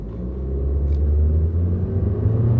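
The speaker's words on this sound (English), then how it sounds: "The turbo's kicking in." Turbocharged car engine pulling away from a stop, a loud, close, steady low rumble that builds and holds as the turbo kicks in, with no talk.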